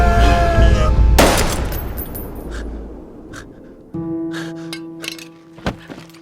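Film-scene gunfire and machine-gun shooting in a violent clash during the Gwangju uprising: a heavy blast opens the clip, a few sharp isolated shots follow later, and a loud, dramatic music score plays underneath.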